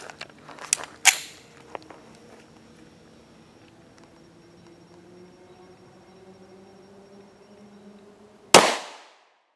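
A 5.7 pistol fires a 55-grain penetrator round at a ballistic helmet with a single loud, sharp crack near the end. Faint mechanical clicks and handling noises come earlier, and a quiet stretch separates them from the shot.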